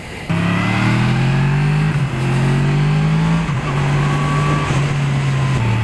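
A motorcycle engine revving hard while riding along an open road, fitted with electronic Öhlins suspension; a loud, continuous drone rising in pitch through several gear pulls, with brief dips at each shift and no talking.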